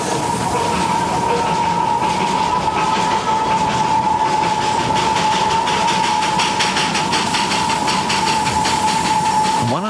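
A Darjeeling Himalayan Railway train runs along its narrow-gauge mountain tracks near Ghum, a loud continuous rumble with rhythmic wheel clatter and a steady high-pitched squeal from the rails.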